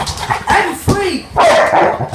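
A puppy yips and barks in a few sharp bursts, close by, mixed with a person's voice talking over and between the barks.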